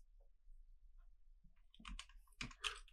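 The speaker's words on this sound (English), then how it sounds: "I'm gonna be typing this because I want to round this out to only two decimal points" Someone types on a computer keyboard, giving a few faint, quiet clicks in short irregular bursts against near silence.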